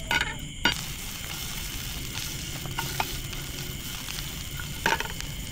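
Eggplant frying in cooking oil on a camp stove at a hammock campsite, a steady close sizzle and crackle with a few sharper pops, no talking.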